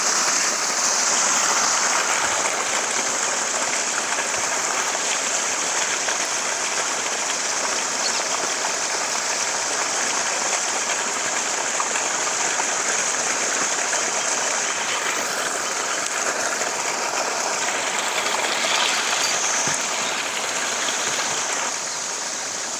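Water gushes continuously from the outlet of a BLDC motor-driven farm pump at a village near Tiruchengode, making a steady, loud, unbroken rushing hiss that runs with no pauses.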